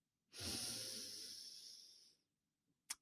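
One long, steady inhale through the nose during a box breathing exercise, close and breathy, fading after about two seconds, followed by a small click.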